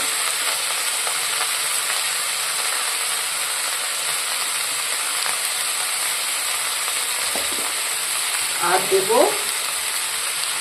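Vegetables with salt, turmeric and chilli powder fry in a pan with a constant close hiss and sizzle, ending in a few faint scraping knocks of stirring near the end.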